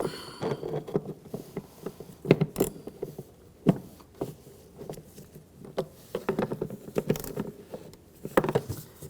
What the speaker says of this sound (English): use a 13mm socket, loosen these up